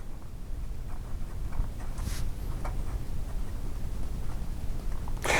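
A Schon DSGN Copper Pocket Six fountain pen with a medium nib writing in reverse on paper, giving a faint, steady scratching with a few brief sharper strokes.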